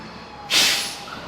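A city bus pulled in at a stop lets out a single sudden hiss of air brakes that fades over about half a second, set against steady street noise.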